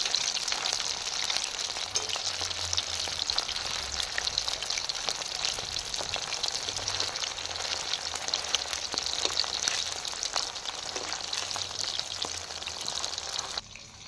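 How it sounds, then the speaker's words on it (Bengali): Chicken pakora fries on low heat in oil, giving a steady, close crackle and fine bubbling sizzle that runs unbroken throughout and cuts off just before the end. "হালকা আঁচে আমি চিকেনটাকে এধার ওধার করে ঘুরিয়ে আমি ভেজে নিচ্ছি।"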